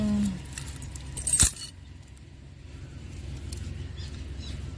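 A bunch of keys jangles in a short, bright metallic burst near the middle, close and clear, with quieter background hum on either side.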